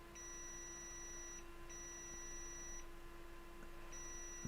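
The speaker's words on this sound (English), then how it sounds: "Beep when I touch the metal bit" Multimeter continuity beeps as the probes touch a metal part: three clear electronic tones, each lasting about a second, separated by short gaps, over a quiet steady hum.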